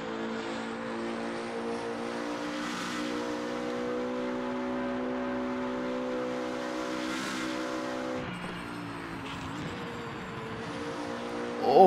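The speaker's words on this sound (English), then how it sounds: "But man, just listen to the sound of the car." A race car engine in RaceRoom Racing Experience at the Nordschleife holds a steady, droning tone that shifts pitch at a gear change partway through, loud and alone, with no talk.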